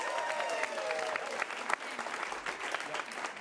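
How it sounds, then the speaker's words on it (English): A crowd at an improv comedy show claps steadily in a short burst of applause, dense and even, with faint cheering mixed in. "Give those three a round of applause."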